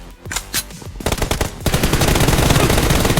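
Gunfire in the mobile game PUBG Mobile during a 1v1 team deathmatch: a few spaced single shots, then a dense, loud burst of automatic fire that rattles on continuously to the end.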